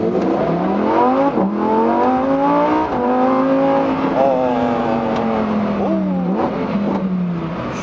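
A Lamborghini Huracán STO in Trofeo mode with manual gear selection accelerates hard on a public road, its loud engine climbing in pitch, dropping at each upshift and rising again through several gears, heard from inside the car.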